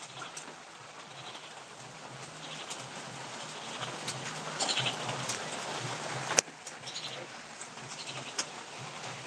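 Pigeons perch in steady rain in Bogura, Bangladesh, a continuous hiss of falling drops with soft, faint bird calls and a sharp knock partway through.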